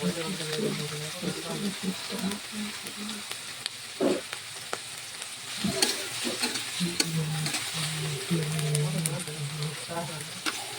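Onions fry in hot oil until reddish, a continuous sizzle and hiss stirred with a spatula that scrapes and clatters against the pan, nearby and fairly loud, with faint voices in the background.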